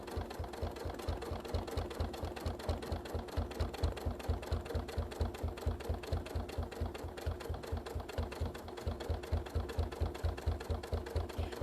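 A domestic sewing machine stitches quilting along a ruler, a fast, even rhythmic chatter of the needle, moderately close and continuous, with no voices.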